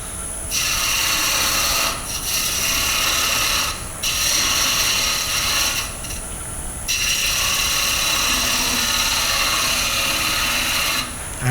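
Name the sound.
wood bowl being turned on a lathe with a detail tool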